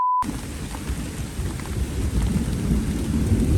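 Thunder rolls through a rainstorm, a deep continuous rumble over steady rain hiss, close and loud after a short silent start.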